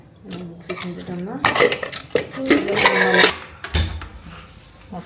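A metal spoon scrapes and clanks against a pot while salt is stirred into food, with loud, close clattering in several bursts and some muffled voices in the background.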